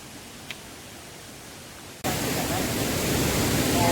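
Nam Kat Yorlapa waterfall roars as a steady broadband rush, faint at first, then abruptly much louder and closer about halfway through, continuing as an unbroken wash of falling water.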